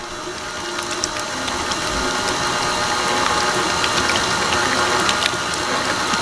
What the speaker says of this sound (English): Put your mixer down. You're gonna start on the lowest speed.